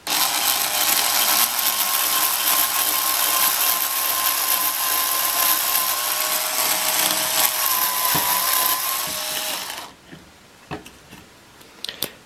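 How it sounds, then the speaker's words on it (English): A power drill whines steadily and loudly for several seconds drilling a hole in a twig, then cuts off, leaving a few small clicks and handling noises. "you're going to hear a whole lot of drill"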